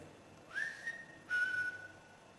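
A person whistles two clear, rising-then-steady notes with a brief pause between them, nearby and alone.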